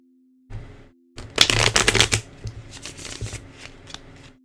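Tarot cards are riffle shuffled nearby in a quick burst of dense fluttering clicks, which taper off into a few lighter card taps and rustles. No one speaks.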